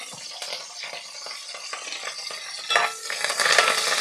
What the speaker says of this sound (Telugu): ఇప్పుడు వీటిని లైట్గా ఫ్రై చేసుకుందాం.